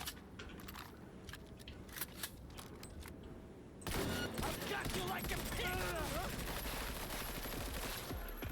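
Assault rifle fire from the video game Cyberpunk, steady bursts of shots running through the clip that turn louder and denser partway in, with game sounds and a voice mixed in.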